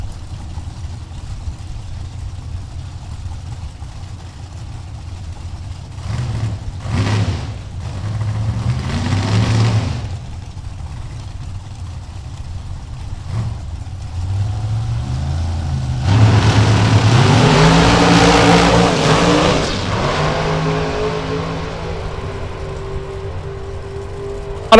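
A Chevrolet Cobalt drag race car at Texas Motorplex blips on and off the throttle, its engine surging in short rising bursts between idling lulls, then roaring louder in a longer pull with a climbing pitch before easing back off.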